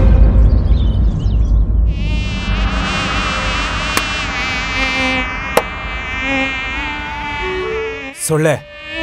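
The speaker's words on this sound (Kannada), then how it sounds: "ಸೊಳ್ಳೆ ಇದೆ ಇಲ್ಲಿ." A mosquito's thin, high whine drones steadily for several seconds in a period comedy scene, wavering slightly in pitch, then ends in a brief sharp sweep.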